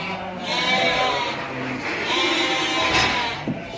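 Sheep and lambs bleat on a farm in several overlapping calls, close and fairly loud, over a steady outdoor background with no talk.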